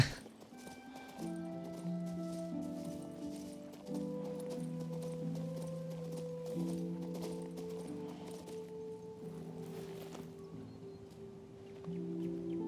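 Hooves clip-clop steadily from a horse in the video game King's Bounty 2, a continuous trotting rhythm over a sustained musical score.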